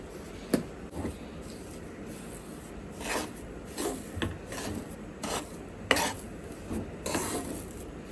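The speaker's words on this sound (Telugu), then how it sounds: "శనగపిండిలోకి పంచదార మొత్తం కూడా బాగా కలుపుకున్న తర్వాత అందులోకి ఒక స్పూన్ వరకు ఇలాచీ పౌడర్ కూడా వేసుకుని కలుపుకోవాలి బాగా" Gram flour is mixed with sugar and cardamom powder in a bowl for laddu, soft dry rasping and rubbing strokes in irregular bursts, close and quiet, with occasional light clinks of the utensil and no voices.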